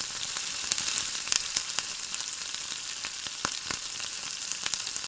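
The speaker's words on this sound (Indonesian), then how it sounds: "kemudian kita goreng menggunakan minyak panas" Battered snacks fry in hot oil over medium heat, a dense continuous sizzle sprinkled with sharp crackling pops, steady and close, with no voices.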